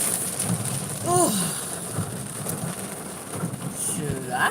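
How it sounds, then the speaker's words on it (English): Steady rain falls outdoors as a continuous hiss right after someone leaves the house, with faint rumbles and a person's voice talking over it. "Dang, I just left the house and it's already raining."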